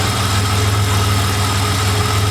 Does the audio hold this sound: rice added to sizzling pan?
no